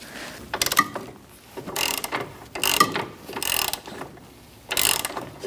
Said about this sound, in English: you might have to switch to a ratchet. I'm using a long 13 with an extension.